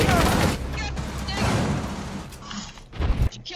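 Rapid bursts of gunfire from the tactical shooter game Rainbow Six Siege, loud and close, with dense overlapping shots for the first second, a rougher crackling stretch after, and a final sharp blast near the end.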